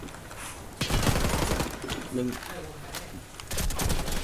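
Beretta ARX160 rifle fire in the online shooter Warface comes in rapid bursts against busy game noise, while someone talks over the shooting.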